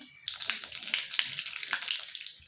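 Panch phoron and bay leaf sizzle hard in hot oil in a pan, a loud bright crackle that starts abruptly and keeps spitting with small pops throughout; no voices.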